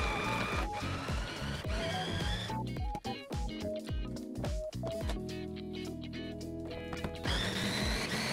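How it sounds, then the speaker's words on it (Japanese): A small capsule-cutter food processor whirs in several loud bursts with pulsing, grinding motor noise, the pitch rising and falling as the blades work through bread and other ingredients for a Catalan-style sauce for a Spanish bar snack. "これ私が愛用しているちょっと小さめのフードプロセッサーです。"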